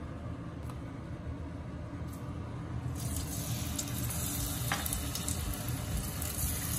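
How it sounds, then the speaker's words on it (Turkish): Potatoes fry in hot oil for a saffron Persian pilaf. A low background gives way midway to a steady, close crackling sizzle that continues to the end. "Yağımız ısınınca patatesleri kızartacağım."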